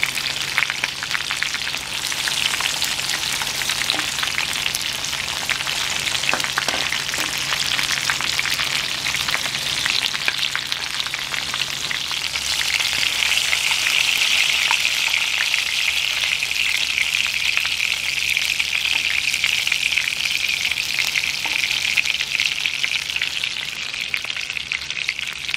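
Dried chile and garlic frying in a pan for a red salsa, a steady dense sizzle that holds loud and continuous the whole time, with faint crackles and no voices.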